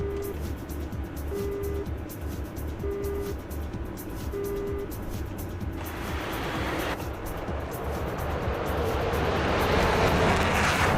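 A jet airliner rolling and lifting off in a flight simulator game, a broad steady engine roar swelling louder toward the end, with faint repeating beeps early on and no talk.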